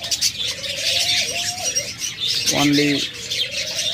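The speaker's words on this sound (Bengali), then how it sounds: "এখন এখানে আরেকটা লুটিনো জোড়া রয়েছে।" A pair of lutino lovebirds chirps and tweets in busy overlapping calls, close and fairly loud, with a brief cooing note partway through and a voice speaking faintly underneath.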